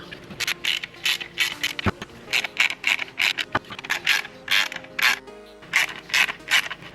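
Small screws are driven into the underside of a DeLorean Time Machine model dashboard, giving quick, rhythmic bursts of ratcheting clicks from a close-up driver, with a couple of sharper knocks between them.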